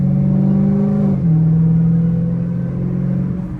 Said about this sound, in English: Let's do a little second gear, get the tires warm.